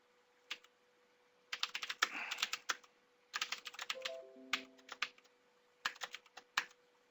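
Computer keyboard typing while writing code, close and clear in several rapid clusters of keystrokes separated by short pauses, with no talking.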